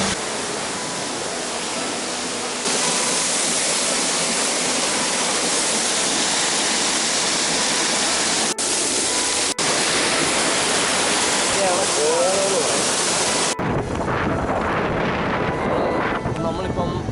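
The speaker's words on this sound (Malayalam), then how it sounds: "ഈ പൊളി വെള്ളച്ചാട്ടം മോനെ" A forest waterfall near Munnar, Kerala, roars as a steady, loud, broad rush of falling water with strong wind buffeting across the microphone, while someone talks briefly over it.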